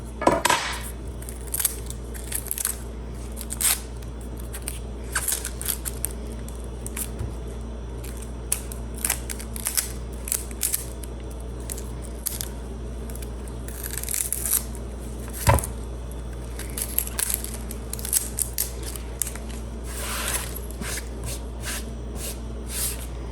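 Papery onion skin being peeled and crinkled by hand on a kitchen counter, a long run of soft intermittent rustles and crackles over a low steady hum, with one sharper knock partway through.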